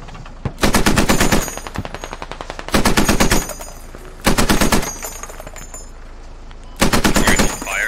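Loud machine gun fire in the military shooter Squad, heard as four sustained rapid bursts separated by short pauses, close and dominant with little else.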